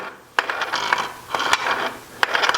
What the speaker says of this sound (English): I'm just going to make sure that our crankshaft still rotates freely